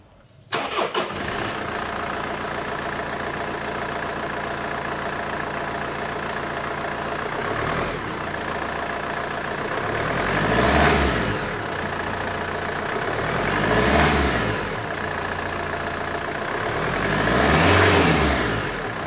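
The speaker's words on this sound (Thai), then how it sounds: "มาฟังเสียงเครื่องยนต์กัน" A Kia Grand Carnival minivan's CRDi 16-valve diesel engine cranks and starts, settles into a steady idle, then revs up three times in swelling bursts before dropping back to idle.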